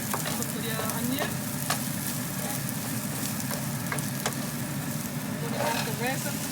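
Onion and garlic sizzle steadily in a pan for chicken curry, a continuous close frying hiss with occasional stirring scrapes and clicks.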